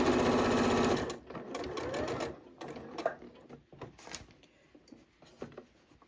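A Janome 8200 QCP sewing machine stitches fabric for a bowl cozy, running in one loud, steady burst for about a second before going quiet, followed by softer clicks and fabric handling.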